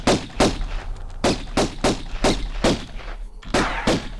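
Pistol gunshots at bats in the 1996 DOS game Tomb Raider: about eight loud, punchy shots fired at a steady pace of roughly two per second, with no speech over them.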